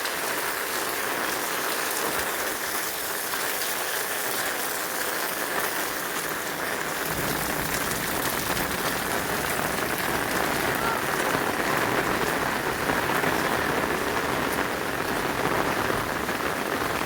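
Heavy rain pours steadily onto roofs and ground at a house near the Bilkha highway, a dense continuous hiss of drops that grows a little fuller partway through and runs unbroken throughout.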